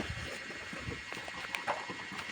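A carabao walking in a rural province setting, with soft irregular hoof thuds on the ground and faint ambient background noise, no talking.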